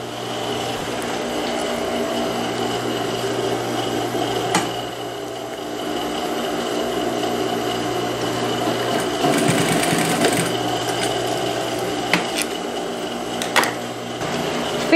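A sewing machine runs steadily for a long stretch while stitching knit blouse fabric, with a constant close mechanical whir and a few sharp clicks and knocks along the way, and no talking.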